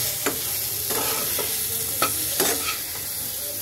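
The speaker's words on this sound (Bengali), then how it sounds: "এইবার আমি সব কিছু একসাথে মিক্স করব" Spices, chilies, salt, turmeric and coriander powder being stirred in a hot pan, with a soft steady sizzle broken by several sharp scrapes of a utensil against the metal.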